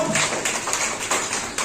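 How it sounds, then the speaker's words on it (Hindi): Children at a Teachers' Day celebration clap together, a dense patter of many small hands at steady loudness with several sharper bursts, close and continuous throughout. "अच्छा तालियां बजाओ"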